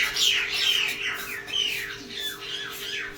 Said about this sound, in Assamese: চৰাইবোৰে মোক ইমান ধুনীয়াকৈ এনিভাৰ্চেৰী উইচ কৰিছে